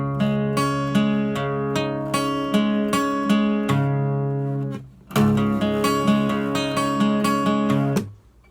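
An acoustic guitar plays a riff as a run of picked, ringing single notes over sustained low strings. The phrase is played twice with a short break between, clear and close with no voice.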